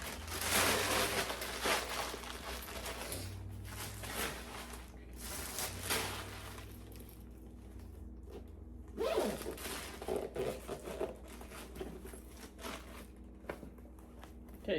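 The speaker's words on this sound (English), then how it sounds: "okay, so I stuffed it with the paper." Paper being stuffed into a bag, rustling and crinkling in bursts with short pauses between handfuls, close and fairly quiet.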